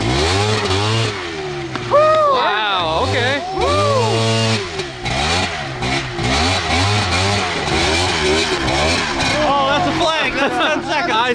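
Small engines on cheap quad ATVs rev hard and keep changing pitch as they run an obstacle course, loud and close, with people shouting and talking over them the whole time.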